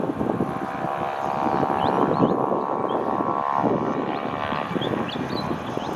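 A Cessna Grand Caravan EX turboprop, registration VH-MIF, powers up on runway 14 at Gold Coast airport with a loud, steady droning roar and rising propeller whine, heard close and continuous.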